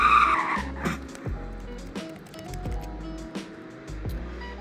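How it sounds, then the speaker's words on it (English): A rear-wheel-drive V10 sedan's tires squeal and chirp in short bursts as it slides, over a continuous engine note at moderate distance. "And I think you can drift it a bit if you turn off TCS. Like, you can slide it, I think."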